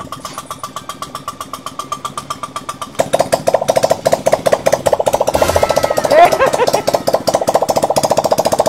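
A Honda Click scooter salvaged from a junkyard, with a starter cranking and then catching into a rapid, pulsing idle that revs up. Close and loud, with a brief voice partway through.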